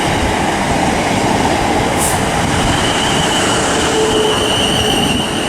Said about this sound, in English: Here comes 450051. This is a Basingstoke to London Waterloo,